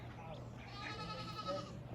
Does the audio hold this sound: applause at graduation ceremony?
no